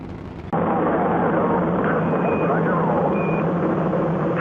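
Space Shuttle Atlantis lifting off on its final launch: a sudden, loud, sustained rocket roar that bursts in after about half a second and holds steady and dense to the end, with faint tones over it.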